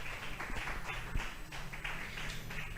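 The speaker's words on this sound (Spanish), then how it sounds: "Vamos a brindarle un fuerte aplauso a nuestro Dios." A church congregation applauds during a sermon, a soft, continuous patter of many hands clapping that sounds distant and fairly quiet.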